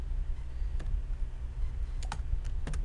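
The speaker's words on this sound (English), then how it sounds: "I can type any of the text I would like to type in this area." Computer keyboard typing in sparse bursts, a few separate key clicks and then a quick cluster of taps, close and fairly quiet over a low steady room hum.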